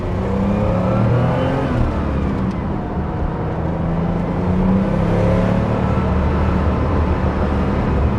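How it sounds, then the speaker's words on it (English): An air-cooled engine in a 1985 Porsche 930 Turbo drones steadily while driving, with a continuous mechanical whir and a loud, close engine rumble throughout. "Classic air-cooled sort of sounds, all those whirring mechanical sounds"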